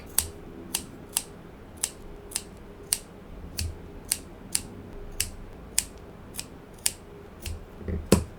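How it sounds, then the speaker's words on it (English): Scissors snip excess string off the back of a woven wall hanging, a steady series of about fourteen sharp, close metallic snips at an even pace, with faint handling rustle and no talking. "we can start cutting all of this excess"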